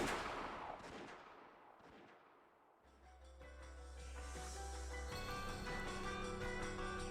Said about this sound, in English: certainly they heard the crisp sound of the gunfire ring out